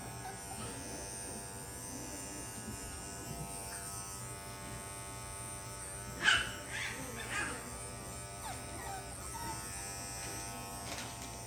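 Electric clippers buzz steadily on a schnauzer puppy's coat at a low, even hum, with a brief louder clatter midway and faint handling noises, no clear talk.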